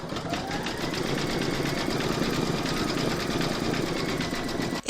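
An embroidery machine stitches an in-the-hoop apple coaster in white thread, giving a steady, fast mechanical needle rhythm with a constant motor hum that runs evenly throughout and stops abruptly at the end.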